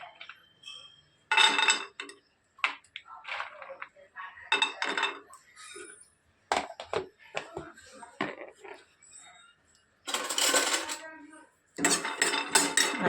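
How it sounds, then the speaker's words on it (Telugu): Peanuts being dry-roasted in a pan while making coconut chutney, heard as repeated metallic scraping and clinking of a spatula against cookware in short bursts, close and fairly loud, with no talking. "అవి బాగా వేయించుకోవాలి వేరుశనగలు."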